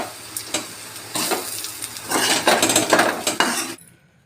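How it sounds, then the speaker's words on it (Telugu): Raw banana fry being stirred with a ladle after masala chilli powder goes into the pan, giving repeated scraping clinks of metal on the pan over a soft sizzle, loud and close, ending abruptly. "మసాలా కారం వేసేసి ఒకసారి గడితో మళ్ళీ కలిపేసుకుందాం"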